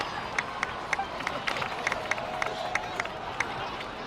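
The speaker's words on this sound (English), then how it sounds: "please give another round of applause for them" A crowd applauds in the video game Genshin Impact, with scattered sharp claps over a steady murmur, moderately loud and continuous throughout.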